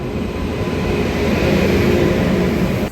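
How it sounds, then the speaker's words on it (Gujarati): A train rumbles steadily and loudly nearby, a dense rolling roar of wheels and cars that holds level before cutting off. "હવે ટ્રેન આવવાની તૈયારી છે આવી ગઈ છે ટ્રેન"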